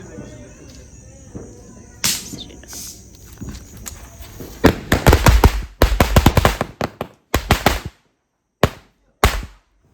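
Diwali firecrackers set off one after another during Kali Puja celebrations, a run of sharp, loud cracks and bursts that cluster densely in the middle and then space out into separate pops, with faint talk early on.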